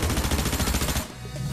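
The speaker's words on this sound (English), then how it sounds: "maybe you'd like the Surge Fire SMG. Well, see for yourself how crazy this gets if you have enough ammo." Rapid automatic gunfire from the Surge Fire SMG in Fortnite Chapter 6, a dense stream of shots that rattles steadily for about a second before breaking off, then a lower tail.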